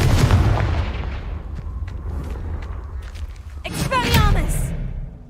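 The Confringo explosive spell is cast in Hogwarts Legacy, giving a booming, rumbling blast with crackling debris, and a second burst near the end. Spoken voices and game noise run over it throughout.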